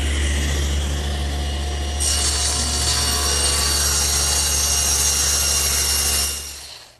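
A table saw blade rips through a wood panel for an oak bathroom vanity, guided on a crosscut sled with a square fence: a steady loud whine and rasp throughout, a sharper bite of cutting partway through, then spinning down at the end.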